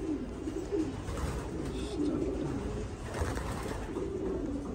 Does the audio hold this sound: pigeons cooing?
yes